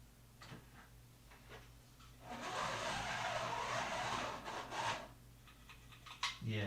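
A slot car whirs around a home track with a faulty guide, a short rising and fading rush of motor and tire noise over a few seconds, fairly quiet, with faint clatter before and after.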